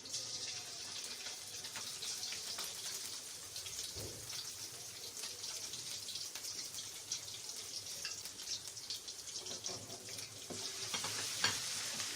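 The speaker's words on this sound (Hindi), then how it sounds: "अब हम इसमें अदरक और लहसुन का पेस्ट ऐड करेंगे मसाले के उसके घी के अंदर और इसको ब्राउन करेंगे" Ginger garlic paste sizzles and fries in hot ghee for a chicken tikka karahi, a steady loud crackle with occasional stirring scrapes throughout, no voices.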